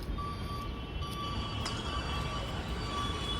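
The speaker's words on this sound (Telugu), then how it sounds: "అది మెట్రో." A Hyderabad metro train runs past near the MGBS bus stand as a steady rolling rumble with thin high wheel squeal tones above it, continuous and moderately distant.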